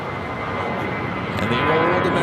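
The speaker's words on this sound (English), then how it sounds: "And the old America West A319 heading to St. Louis." An America West Airbus A319 airliner at LAX sounds as a loud, broad jet engine roar that swells slightly toward the end, with a voice briefly audible.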